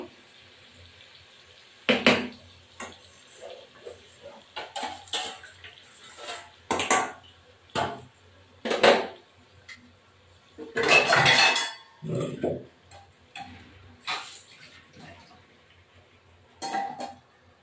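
Metal pot and lid clatter over a pot of chicken curry on the stove, a run of sharp knocks and scrapes with short gaps, one longer rattle near the middle, close and fairly loud with no talking.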